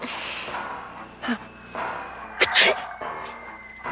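A single short sneeze-like burst of breath, close and fairly loud, among quiet rustling and faint background noise.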